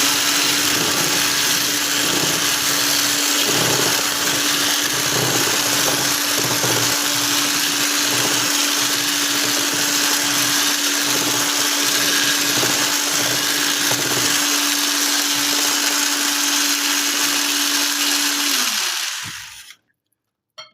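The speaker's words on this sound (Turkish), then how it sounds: "Aynı şekilde çırpıyoruz." An electric hand mixer whisks cake batter with flour, cocoa, vanilla and baking powder, a steady loud whirring hum running without a break for nearly twenty seconds before cutting off abruptly.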